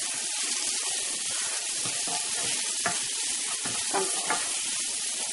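Curry paste fries in a pan while being stirred, a continuous hissing sizzle with occasional scraping clicks.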